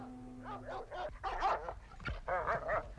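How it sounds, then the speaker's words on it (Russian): Two German shepherd dogs on chains bark and yelp in quick repeated bursts, close and agitated, with some whimpering between barks. "К нему уже рвались 2 овчарки."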